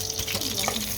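Sausages searing in an oily pan, a brief burst of steady close sizzling and hiss.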